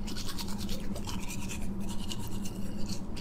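A toothbrush scrubbing briskly in repeated short strokes, a close, scratchy rhythmic bristle sound with a faint low hum beneath, and no speech.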